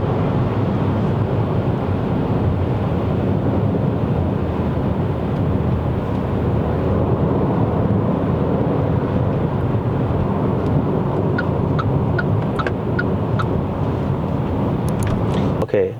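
A 2025 Proton X50 1.5TD Flagship in Sport Mode accelerates on a Malaysian road, heard from inside the cabin as a steady, dense engine and road roar that stays loud and continuous, ending with a few faint high clicks.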